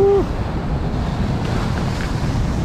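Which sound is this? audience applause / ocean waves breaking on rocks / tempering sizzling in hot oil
ocean waves breaking on rocks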